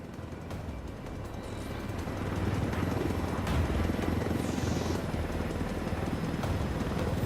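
A helicopter in the video game Ghost Recon Wildlands flies with a continuous low rotor rumble and whooshing wash, steady and fairly loud, building slightly in intensity over several seconds with no talk.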